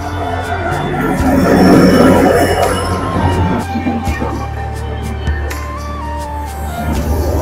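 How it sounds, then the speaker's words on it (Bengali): A Vistadome tourist special train rumbles past a railway crossing in the Dooars, close and loud. Heavy wheel noise and squealing swell early, then ease off into a steady clatter as the train rolls by. "এটা টুরিস্ট স্পেশাল ট্রেন, এটা কিন্তু ভিস্তাডোম"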